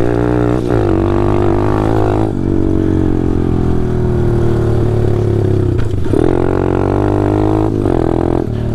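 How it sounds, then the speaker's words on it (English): Small pit bike engine running after a warm-up and clutch adjustment, a loud close continuous drone with several throttle blips and revs rising and falling throughout, no speech. "I let the bike warm up for like 30 seconds, I ain't even kidding you."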